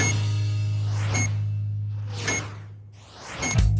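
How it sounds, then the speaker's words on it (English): Three short, bright beeps sound at an even pace about a second apart, over a steady low hum and faint whooshing. "How fast will the beeps be if I swing it from much higher up?"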